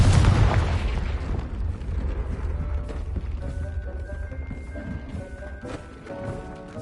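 Spell blasts from Bombarda, Confringo and other casts in the Hogwarts Legacy video game, opening with a heavy close boom that fades into a rumbling, crackling tail with scattered pops and faint tonal magical shimmer.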